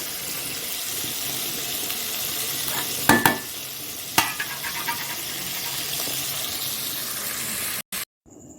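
Crab fries in a pan with a steady, close sizzle, broken by a few sharp clacks of a spatula stirring against the pan, then a brief pause at the end.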